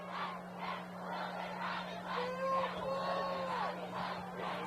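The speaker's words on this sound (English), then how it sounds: "So they're yelling field goal down the crowd to kick a field goal" Crowd at a high school football game, Uintah vs. Timpanogos, chanting and yelling together in repeated swells for a field goal late in the game, with a steady hum underneath.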